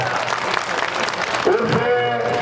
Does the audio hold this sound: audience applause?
yes